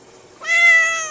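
A cat gives a single clear, tonal meow that starts abruptly and holds briefly before trailing off, close and alone over a quiet room.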